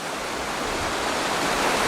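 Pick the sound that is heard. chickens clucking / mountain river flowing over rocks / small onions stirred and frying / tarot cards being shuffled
mountain river flowing over rocks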